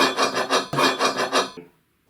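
Lone Wolf climbing sticks rubbing against each other before any silencing, a harsh rhythmic rasping scrape repeated about seven times in quick strokes, close and loud, then cutting to silence.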